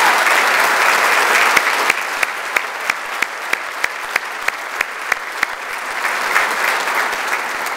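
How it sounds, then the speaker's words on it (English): A crowd applauds steadily at a teacher and staff tribute dinner, with a few sharper claps standing out from the dense clapping. "let's give them a big round of applause"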